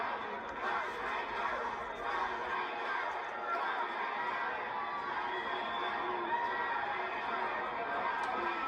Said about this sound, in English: this is an outdoor venue and the crowd is amped